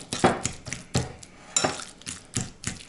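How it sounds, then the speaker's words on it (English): Ripe avocado being mashed in a bowl for guacamole, producing a series of soft, irregular thuds and scrapes with light clinks of utensil against the bowl, close up and with no talking. "all you need for guacamole is avocado and maybe some salt and pepper. You mash it up."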